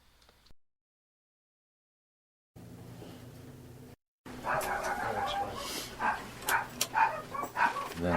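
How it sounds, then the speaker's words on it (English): At night in a residential area, after a stretch of near silence and low hum, dogs bark repeatedly at a distance, irregular and somewhat faint, with a faint rooster-like call mixed in. "you also hear the owner's dogs barking."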